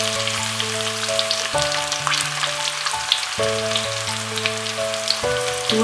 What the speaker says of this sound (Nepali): अब यसलाई फ्राई गरौँ केही बेर।